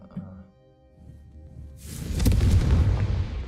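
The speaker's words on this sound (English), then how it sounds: "Он не поджигает, он больше взрыв." Confringo spell explosion in Hogwarts Legacy: after a quiet stretch with a faint voice, a sudden loud boom erupts and rumbles on, the blast decaying slowly to the end.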